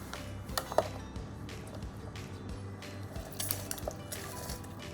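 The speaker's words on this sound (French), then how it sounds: "Je vais prendre un presse-fruits et là je presse mes citrons." Lemons pressed on a hand fruit juicer in a home kitchen while making a lemon meringue tart, giving soft wet squishes, drips and a few light clinks of the press against a dish, close up with no talking.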